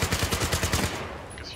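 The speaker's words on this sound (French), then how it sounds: "À l'ouest de votre position, mitrailleuse ennemie!" Enemy machine gun fire in Battlefield 4 rattles in a fast, loud, steady burst for under a second, then cuts off and leaves a fainter background.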